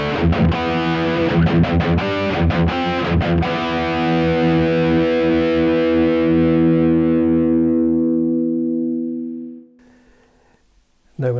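A Gibson Melody Maker electric guitar with Seymour Duncan high-output pickups, played through a high-gain Friedman amp, strums several loud distorted chords, then lets one ring out in a long sustain that fades before near silence.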